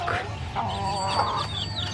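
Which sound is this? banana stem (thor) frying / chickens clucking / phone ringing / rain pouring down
chickens clucking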